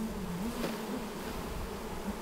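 Honeybees hum around a hive opened for a varroa mite check, a soft, steady drone with wavering pitch as individual bees drift close to the microphone.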